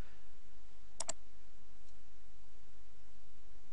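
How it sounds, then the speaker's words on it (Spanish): Two quick, sharp clicks close together from a computer mouse double-click while editing a selection in image software, faint over a steady background hiss with no talking. "Doble clic y cerraría la selección."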